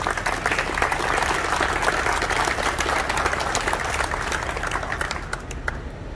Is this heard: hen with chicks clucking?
no